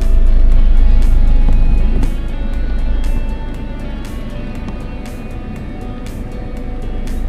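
Steady road and engine rumble from a vehicle moving through traffic near a landslide area, a continuous broadband drone with wind-like hiss and small bumps, loudest at the start and easing slightly, with no talk.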